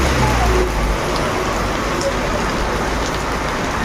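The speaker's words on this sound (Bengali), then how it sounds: "আর বাইরের দিকে দেখো বৃষ্টি হচ্ছে" Rain pours outside a phone shop, a dense, steady hiss close by with a low rumble underneath, sounding continuously from start to end.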